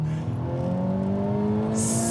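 A Honda Civic Type R engine pulls hard through first gear, its loud, close note climbing steadily in pitch as revs build without a break, with no voices over it.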